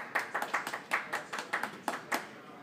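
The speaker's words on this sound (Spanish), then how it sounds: "Un aplauso para Luna." Applause for a prize draw winner, a small group clapping briskly for under three seconds, fairly close but not loud, with no voices over it.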